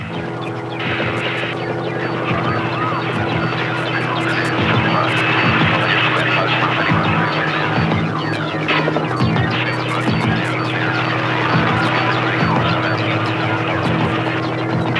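Helicopters mustering cattle across dusty outback country give off a continuous throbbing rotor drone, loud and unbroken for the whole stretch.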